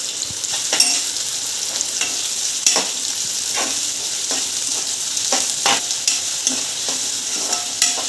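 Garlic and onion fry in hot oil for a cashew curry, a steady bright sizzle broken by scattered sharp crackles and occasional stirring scrapes, close and continuous with no talking.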